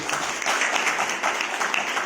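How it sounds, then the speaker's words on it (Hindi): An audience claps through a religious talk, a steady dense patter of applause at moderate level with no pauses and no voices over it. "ताली बजाओ जरा समझ के।"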